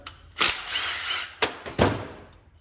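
A wrench ratchets loose the head stud nuts on a Honda TRX 250R quad during frame repair, making a few close, sharp clicking bursts separated by short pauses.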